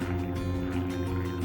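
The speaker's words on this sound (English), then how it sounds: "The noise you can hear is an old traditional biplane flying above me." A steady drone from an old traditional biplane flying overhead above a field beside a wood and disused gravel pit, a continuous low engine hum filling the air outdoors.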